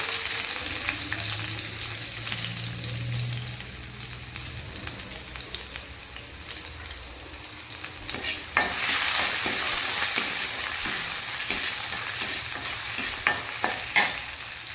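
Onions fry in a pan for egg rice: a soft sizzle carries on throughout, then grows brighter about halfway, with repeated light scraping strokes from stirring.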